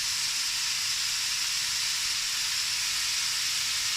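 Onion and curry leaves frying in spices for a South Indian chicken gravy, a loud, even, continuous sizzle and hiss close up, without pauses or voices.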